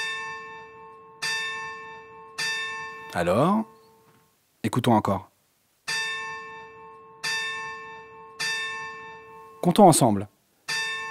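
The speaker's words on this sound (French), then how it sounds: "La cloche a sonné 3 fois." Church bell ringing three evenly spaced, resonant strikes, then a voice speaks, and the bell tolls another set of three clear rings, followed by more talk.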